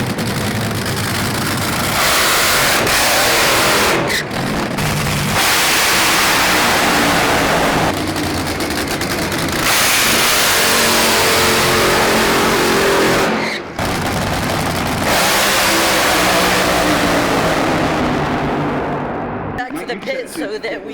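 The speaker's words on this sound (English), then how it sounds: "The dragsters are gonna run first," NHRA dragsters at the Winternationals roar down the strip in long, loud, sustained bursts of engine noise, several passes in a row with brief gaps between them, heavy wind buffeting, and voices talking over the din.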